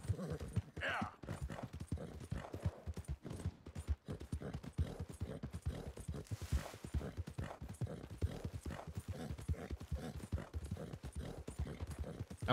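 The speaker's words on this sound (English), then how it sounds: "I don't like the sound my horse is making, it makes me sad" Steady, rhythmic hoofbeats of a horse trotting in Red Dead Redemption 2 run throughout, with a brief whinny near the start.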